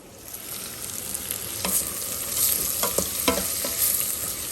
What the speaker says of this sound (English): I'm going to add our onions on in